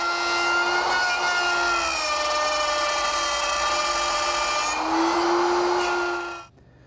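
A router mills dovetail tails on a drawer front held in a jig, giving a steady, high, whining tone that dips slightly partway through and then cuts off after nearly seven seconds.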